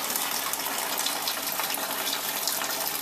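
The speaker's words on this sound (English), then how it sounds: "We've got about 25 litres of water in here, and we're going to fill this container up to about 25, maybe 27 litres" Tap water running steadily into a brewing container for real ale, a broad continuous rushing gush that holds even throughout, with no talking over it.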